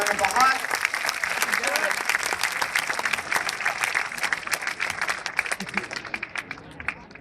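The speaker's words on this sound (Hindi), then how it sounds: "एक बार ताली बजाकर आप विदा करिए भाई डॉक्टर सुनील जोगी को" Audience at a Hindi poetry gathering clapping to send off a poet, steady crowd applause with individual hand claps standing out and some voices mixed in.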